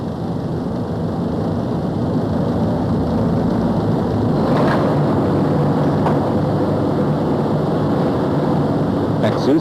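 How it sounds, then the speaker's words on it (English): A VW T3 engine running under load on a factory test bench: a loud, constant broadband drone with steady mechanical hum, continuous and unbroken, with faint clanks of shop activity around it. "Each individual engine is run under load on the test bench and adjusted exactly."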